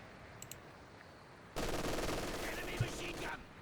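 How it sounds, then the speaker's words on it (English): Sustained machine gun fire in a cold-weather Company of Heroes 2 battle rattles steadily for about two seconds at moderate distance, over a low ambient battlefield bed. "That's a machine gun."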